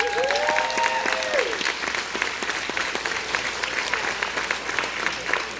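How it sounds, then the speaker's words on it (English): Applause at a school concert as a class prize winner is named, a full, steady round of clapping from a crowded room, with a brief whistle early on and a voice in the background. "we'll give you a round of applause"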